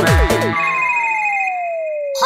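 A telephone rings as part of a Bhojpuri song, a synthesized ringtone over music, then a long sliding electronic tone fades beneath it, loud and clear.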